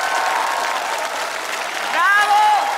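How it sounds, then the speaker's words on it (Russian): A concert audience applauds after a live performance, steady dense clapping with a voice cheering over it and swelling louder near the end. "Ваши аплодисменты."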